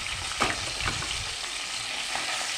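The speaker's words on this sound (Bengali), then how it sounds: "লাল লাল করে ভেজে নেবে" A fish head sizzles in hot oil in a pan, a dense, continuous hiss heard close. A few stirring scrapes and knocks break through in the first second.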